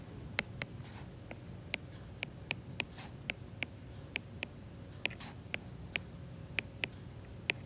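Pen or pencil writing on paper close by, a series of small irregular ticks and taps spaced through a quiet room.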